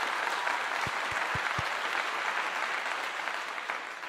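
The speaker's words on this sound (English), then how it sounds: "Let me give you a clap." Clapping from a small group at an online sports recruiting talk show, a soft wash of applause with a few sharper nearby claps early on, fading gently toward the end.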